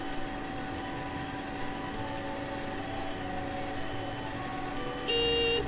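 A Yanmar YT5114R robot tractor pulls away across a field in Memuro, Hokkaido, its engine a steady, even drone; a short electronic beep sounds near the end.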